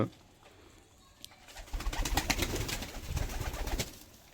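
Pigeons feed, then a pair takes flight. A quiet start gives way to a dense run of close flapping and fluttering bursts mixed with soft coos.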